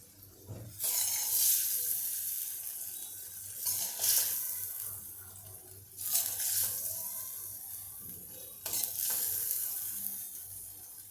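Hot oil tempering crackles and sizzles as it is poured over puffed rice for girmit, in four separate bursts, each fading over a couple of seconds, close and moderately loud.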